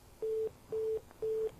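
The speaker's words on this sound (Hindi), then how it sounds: "मेरे ख्याल में डिस्कनेक्ट हो गया है फोन" A telephone line after the call has dropped: three evenly spaced beeps of a steady busy-style disconnect tone, moderately loud on a quiet line, with no talking.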